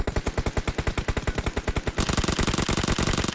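Automatic gunfire in the video game PUBG Mobile: a loud, rapid burst of evenly spaced shots that shifts after two seconds into a faster, denser volley, close and continuous, with no talk over it.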